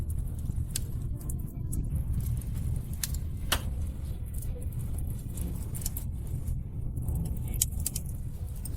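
A car engine rumbles low and steady while the vehicle turns around, with scattered light clicks and jingles over the continuous drone.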